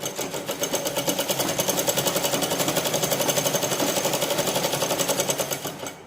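A sewing machine runs a straight stitch along a petticoat for a cancan set, a close, continuous rapid pulsing hum that holds steady for several seconds before slowing at the end.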